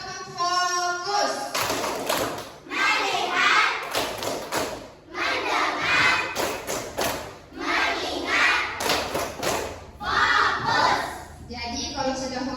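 A classroom of children performs the 'tepuk fokus' clapping routine, bursts of rhythmic claps alternating with lively group chanting and shouting, close and loud throughout.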